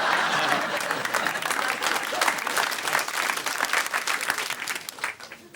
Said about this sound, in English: Absolutely astonishing thing to start a round of applause over